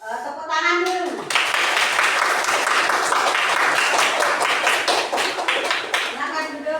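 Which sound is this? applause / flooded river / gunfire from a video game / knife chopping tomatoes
applause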